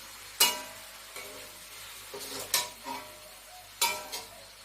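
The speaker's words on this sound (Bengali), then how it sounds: "পাট শাকগুলো এবার আমি সব এর মধ্যে দিয়ে দেবো আস্তে আস্তে করে। দিয়ে আমি এটাকে এর সঙ্গে মিশিয়ে নেব ভালো করে।" Jute leaves being stirred into a pan with shrimp, giving a few sharp scraping clinks of a spatula against the pan at irregular intervals over a quiet, low sizzle, with no talk.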